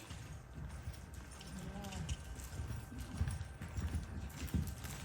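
A Tennessee Walking Horse cantering during a riding clinic in Colorado, its hooves beating a steady, close clip-clop rhythm on the ground, with a brief whinny-like sound and an instructor's voice in the background.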